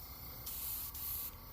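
Short bursts of an aerosol spray can lay light coats of paint onto a fishing lure, giving a close, steady hiss that pauses briefly between passes.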